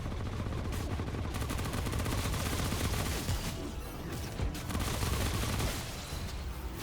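Dense, sustained gunfire from shooting at a crowd of enemies in the video game Remnant: From the Ashes, loud and continuous bursts filling the whole stretch with little break.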